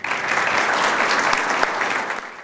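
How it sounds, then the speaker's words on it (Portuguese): Sustained applause from a seated audience welcoming a law professor to the podium at a luncheon meeting, dense steady clapping throughout, close and loud with no voices. "recebam com aplauso o nosso professor José Rogério Cruzitucci"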